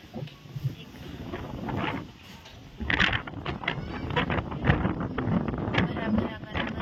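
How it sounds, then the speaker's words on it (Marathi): Strong wind gusts buffet the microphone in rough, rumbling bursts, growing stronger partway through, with faint outdoor noise underneath. "मी असं इतकं वारं सुटले बाहेर"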